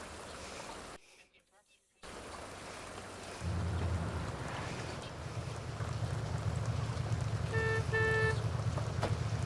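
Steady rain hiss in The Sims 2 fills the scene after a brief dropout, with a low rumbling drone beneath and a few faint tonal beeps near the end.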